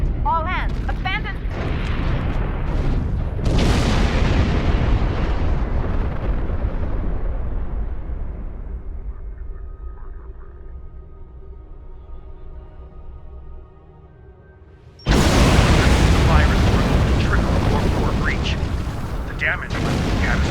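Explosions roar in the video game Star Trek Online: a loud rumbling blast fades into a long low decay, then a second heavy burst erupts abruptly and holds near and loud.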